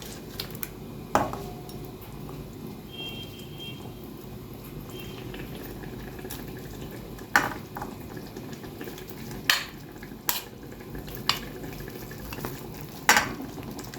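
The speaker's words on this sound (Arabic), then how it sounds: "بصوا يا بنات اهي خلاص الطماطم غلت، هنزل بقى فيها المسقعه، نزل البتنجان كده" Tomato sauce bubbles at a low simmer in a pot while eggplant pieces for Egyptian moussaka drop in, and a spoon stirs with scattered sharp clinks against the metal rim over a soft, steady liquid bubbling.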